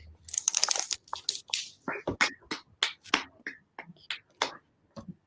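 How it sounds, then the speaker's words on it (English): A small audience at an evening fiction reading gives sparse, fairly quiet applause, with individual claps standing out irregularly rather than as a dense roar. "Applause."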